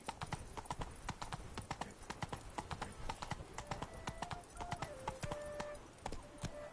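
Roach, the horse in The Witcher 3: Blood and Wine, gallops with a rapid, regular clip-clop of hooves running through the whole stretch, fairly close, with game music tones drifting in behind.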